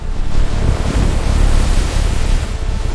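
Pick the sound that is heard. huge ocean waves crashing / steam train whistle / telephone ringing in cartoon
huge ocean waves crashing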